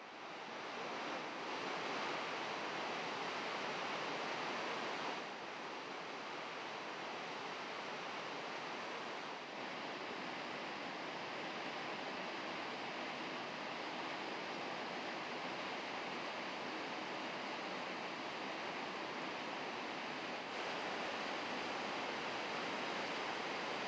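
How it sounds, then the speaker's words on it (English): Rhine Falls near Schaffhausen, 150 metres wide and 23 metres high, roars as a continuous dense rush of cascading water, loud and unbroken for the whole stretch with no voices. "A grand spectacle is provided near Schaffhausen with Europe's largest waterfall."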